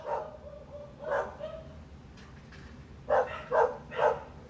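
Several dogs barking in the distance, a few scattered single barks followed by a quick run of three sharp barks near the end, over a quiet background.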